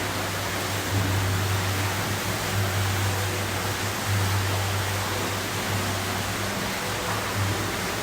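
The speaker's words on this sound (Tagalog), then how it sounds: "Ito yung kanilang little falls" A small waterfall gives a steady broadband rush of falling water, continuous and fairly close, with a low hum beneath it and no talking.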